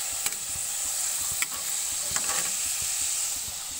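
Food for breakfast fries in a pan, giving a steady, dense sizzle with a few brief stirring scrapes and knocks, close up and without any talk.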